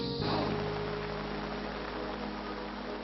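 Heavy jungle downpour, a dense, steady hiss of rain falling on surfaces that stays constant from start to finish, with no voices.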